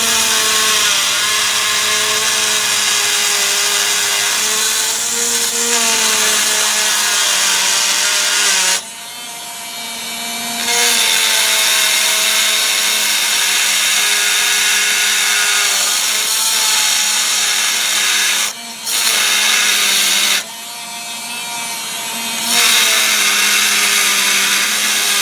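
A Dremel rotary tool cuts granite with a loud, steady high-pitched whine and grinding rasp, dropping out briefly three times as the cut pauses before resuming, heard alone up close.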